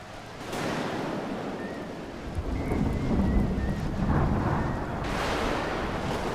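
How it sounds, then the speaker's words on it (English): A thunderstorm in the Smalland survival video game, with low rumbling thunder rolling under steady heavy rain. The thunder swells and fades through the whole stretch and is loud and enveloping, with no voices. "The storm has broken."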